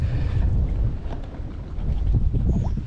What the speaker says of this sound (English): The only thing is the wind's picking up a bit.